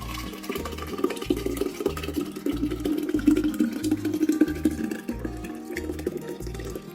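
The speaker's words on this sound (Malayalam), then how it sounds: "ഇനി നമുക്കിത് ഭരണിയിലേക്ക് ഒഴിക്കാം" A cooled grape wine mixture is poured into a jar for home winemaking, giving a soft, continuous trickle of liquid with faint rhythmic thumps beneath.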